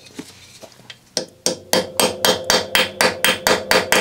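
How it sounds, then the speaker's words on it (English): Sharp metallic hammer strikes on a screwdriver driven into a screw during a Kawasaki KH125 engine rebuild ring out close by, a few scattered blows then a steady run of regular, evenly spaced hits. "hammering the screwdriver in will save you so much trouble"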